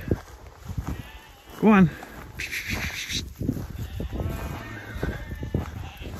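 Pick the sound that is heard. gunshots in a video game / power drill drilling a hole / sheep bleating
sheep bleating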